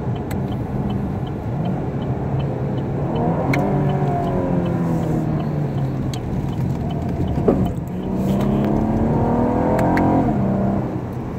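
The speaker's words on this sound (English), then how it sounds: "you can then hold the downshift paddle and it will take you into the lowest gear that it is safe to be in." A 2017 Chevrolet Camaro engine hums and rises in pitch through repeated paddle-shift downshifts, heard from inside the car as a steady loud drone with rev blips and sweeping tones.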